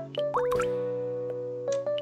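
Cartoonish water splashes and drips from a bathing action in the video game Clouzy, a few bubbly bursts at the start then a steady chiming tone, with a short splash near the end.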